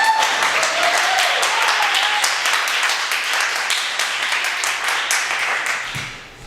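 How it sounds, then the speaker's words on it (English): A lecture-night audience at a talk on visual artists and hip hop gives a loud, dense round of clapping that fills the room steadily, then tapers off near the end. "That was a strong round of applause"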